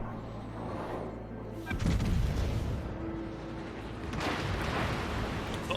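Warship main guns firing high-explosive shells in World of Warships, heavy booming salvos that roll into a long rumble, with a second burst of blasts later, no speech over it.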